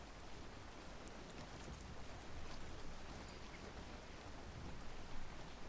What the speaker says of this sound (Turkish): Tam istediğim şey oluşan Fırtına var ve tam arkamdan esiyor